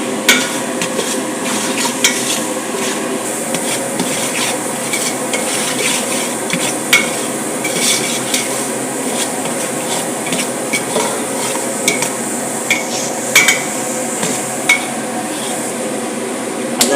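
Semolina stirred and roasted in a pan for sweet halwa, a steady scraping and rustling of a spoon over dry grains with occasional clinks of metal, continuous and close throughout with no talking.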